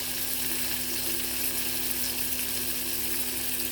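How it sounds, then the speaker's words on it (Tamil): Tomatoes sauté in a pan for a red ponnanganni greens kootu, producing an even, dense sizzle that holds steady throughout without pauses. "தக்காளி நல்லா குழைய வதங்கி வரட்டுங்க."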